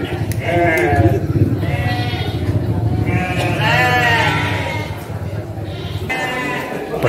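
Garut sheep at a livestock market bleat repeatedly, loud and close, several overlapping calls over a busy background while someone talks.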